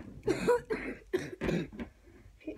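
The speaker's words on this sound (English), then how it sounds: "This is Roman Reigns coughing, not me." Several harsh coughs in quick succession, close and fairly loud, followed by a quieter trailing cough.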